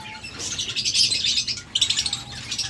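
King quail in a breeding setup chirp rapidly and repeatedly at close range, with bright, busy calls that keep overlapping and a clear burst of louder peeps near the end.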